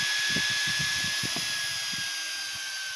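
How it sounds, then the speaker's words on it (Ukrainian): A 12V LiFePO4 battery charger (up to 36 A) runs its loud cooling fan, a steady high whine with a faint rattling texture, heard alone and close. "Ось ну, такий голосний кулер."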